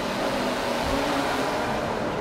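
A race car in Forza Motorsport 7 roars through a tunnel, a dense, loud, echoing engine wash with no break, broad and reverberant throughout.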